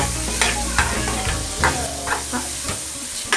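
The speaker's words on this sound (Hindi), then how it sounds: "इसको हल्का फ्राई करेंगे ताकि इसका कच्चापन खत्म हो जाए। 2 मिनट तक हम इसको फ्राई करेंगे।" Samosa potato filling fries in a pan with a loud, continuous sizzle. A spatula scrapes and stirs every half second or so in a regular rhythm, close and clear.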